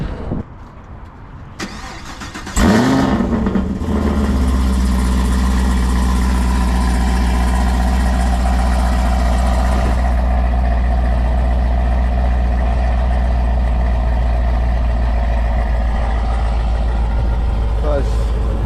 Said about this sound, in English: I'll give you guys a quick little warm start so you guys can hear